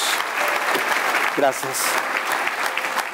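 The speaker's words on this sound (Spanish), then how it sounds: "Te damos el mejor aplauso de esta noche a ti, precioso Dios" A church congregation applauds during an evening worship service, keeping up a steady full-room patter of clapping while a voice speaks briefly over it.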